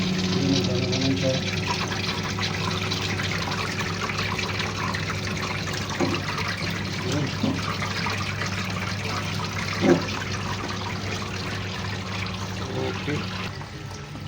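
An ice maker machine draining its water and then filling again, a continuous rushing and trickling flow close by with a brief spoken word over it.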